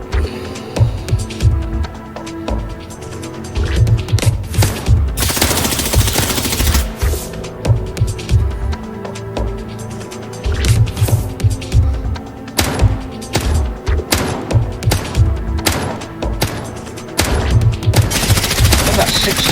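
Video game gunfire crackles loudly in rapid machine-gun bursts and single heavy shots, repeating through the scene with brief pauses, thuds mixed in.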